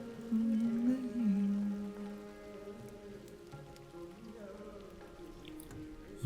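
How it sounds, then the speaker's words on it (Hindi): Rain falls steadily at a roadside tea stall while a ghazal plays quietly from a small speaker, the soft patter continuous beneath the music with no talk. "बारिश हो रही है,"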